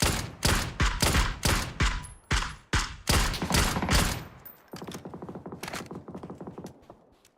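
Rapid bursts of gunfire from the video game PUBG, loud sharp shots in quick volleys, then a denser, quieter stretch of automatic fire toward the end.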